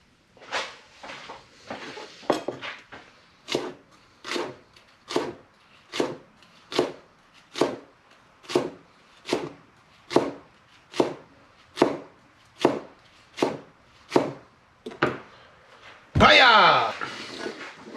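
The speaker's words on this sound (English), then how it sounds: "We're finally chopping this up because nobody wants a big hunk of green onion or a big hunk of parsley in their dip." Knife chopping green onion and parsley on a cutting board, a run of about twenty even, steady thumps close by, ending in a brief louder burst of noise.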